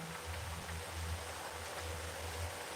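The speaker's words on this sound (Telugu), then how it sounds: "వాన ఫుల్ ఉంది కదా సిగ్నల్ పోయి ఉంటుంది" Heavy rain pours down steadily, a continuous even hiss of falling water with no breaks and no talking.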